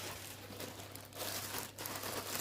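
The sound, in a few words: plastic bags being handled, crinkling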